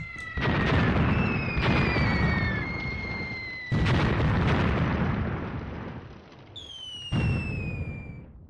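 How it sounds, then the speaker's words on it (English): Heavy artillery bombardment in the World War II tactics game Graviteam Tactics: Mius Front, with several loud, rumbling blasts arriving every couple of seconds, each decaying into a long roar, with shrill whistling tones over the booms. "And the enemy is bombarding us very heavily."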